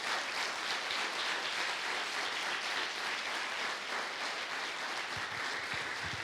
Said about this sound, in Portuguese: Você pode aplaudir o nome dEle por isso, em nome de Jesus?